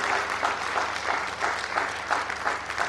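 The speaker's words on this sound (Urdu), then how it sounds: "اس کے لیے خصوصی طور پہ کم از کم تالیوں سے ضرور ایکنالج کیا جائے" Audience applause at a recognition ceremony held by a tribunal bench in Multan, steady and continuous with dense clapping throughout, fairly near and without talk over it.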